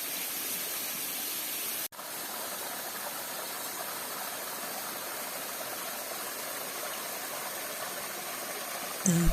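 Small Curug 3 waterfall with only a thin trickle seeping down a tall cliff, heard as a steady broadband hiss of falling water, moderately close, with one brief knock near the start.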